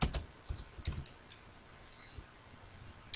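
Computer keyboard typing in short bursts of quick keystrokes, fairly faint and close, with the clicking thinning out toward the end and no voices.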